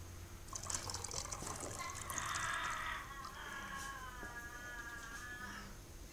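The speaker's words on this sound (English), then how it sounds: "And just pour it in." Beer from a bottle is poured through a funnel during home-brew yeast harvesting, a faint, close trickling and gurgling fill of liquid that runs for several seconds.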